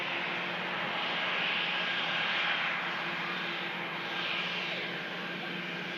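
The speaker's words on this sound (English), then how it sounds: "Air France heading off to Paris, Charles de Gaulle on the Airbus A220 300 series" An Air France Airbus A220-300 jet departs Manchester Airport, heard as a steady, loud, broad engine roar that swells gently and fades slightly over six seconds, with no voices.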